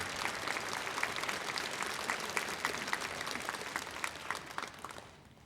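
A church congregation claps in warm applause during Sunday worship to welcome a guest pastor. The sustained, dense clapping fills the room at a steady level, then fades out near the end.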